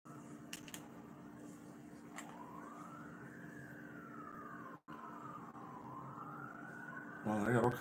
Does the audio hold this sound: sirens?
yes